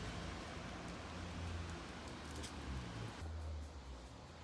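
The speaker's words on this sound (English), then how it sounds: "It's like raining and horrible." Steady rain falling outside early on a dark autumn morning, a continuous soft hiss with a low rumble underneath, faint and even throughout.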